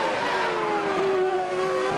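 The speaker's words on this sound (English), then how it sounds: "De La Rosa coming down to the hairpin, nipping through on the inside of Heinz-Harald Frentzen's Jordan with its Mugen engine." Formula One cars racing at the 2000 Canadian Grand Prix, including a Jordan with a Mugen engine, screaming at high revs with a rising, sustained engine whine as they pass through the hairpin.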